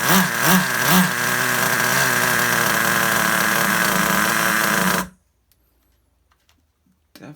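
A vintage Traxxas Rustler RC car's small nitro engine runs loud and close with a buzzy idle and a few throttle blips, then cuts out abruptly to near silence with faint clicks.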